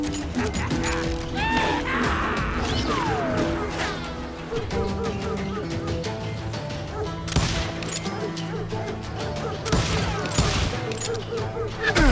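Covering gunfire in the Wild West shooter Call of Juarez: Gunslinger, scattered shots and cracks mixed with shouting men, yelps and crashing, with sharper bursts of fire standing out near the end.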